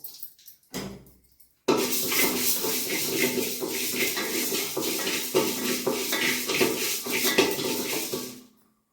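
Black urad dal roasts in a little oil in a pan: a few brief clatters, then a sudden, sustained rustling sizzle with scraping and rattling for about seven seconds before it cuts off.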